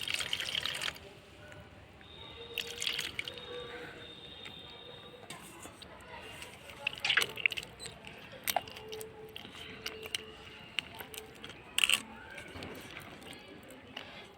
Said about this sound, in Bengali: জল দেব দিয়ে বেলটাকে হাতে আমি চুটকে নেব